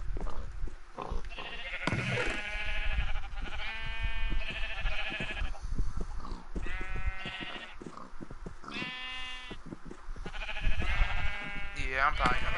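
Sheep bleat repeatedly in a video game, a run of wavering bleats close together, with someone talking between and over them.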